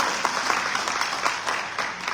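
Guests at a black-tie gala break into a round of applause, a steady, moderately loud patter of many hands that carries on without a pause.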